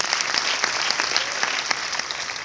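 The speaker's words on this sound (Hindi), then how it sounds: "तो एक बार डॉक्टर अमोल कदम सर और प्रशांत मोरे सर के लिए जोरदार ताली होनी चाहिए।" An audience at a Mumbai event applauding the speakers, dense steady clapping from many hands that holds at an even level throughout, with no voices over it.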